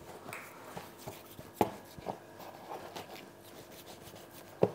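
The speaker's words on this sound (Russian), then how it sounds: "Все, потом дорезаем шкурку." A knife slicing pork skin away from meat in a sausage workshop, heard as faint scraping and cutting strokes with a couple of sharper taps, close by and quiet, without speech.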